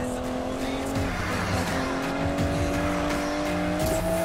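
An Aston Martin DB11 is driven hard in Need for Speed Payback, the engine droning loudly at high revs with tires squealing, its pitch shifting as the car accelerates and corners.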